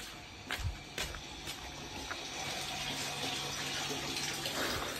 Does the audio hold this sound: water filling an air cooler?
yes